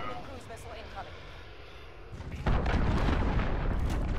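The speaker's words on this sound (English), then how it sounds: "That predator missile." A predator missile strike in a multiplayer shooter game on the St. Petrograd map lands with a sudden loud, broadband boom about midway, followed by sustained rumbling blast noise, after a stretch of quieter gunfire and game ambience.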